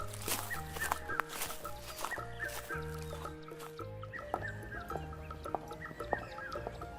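Cartoon chickens cluck repeatedly inside a coop, with busy overlapping clucks over a bouncy background music track.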